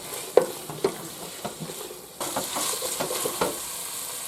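Carrots and celery frying in a pan for a bolognese meat sauce, with a few spoon knocks and stirring scrapes at first, then a stronger continuous sizzle once fresh vegetables hit the pan, close up with no talking.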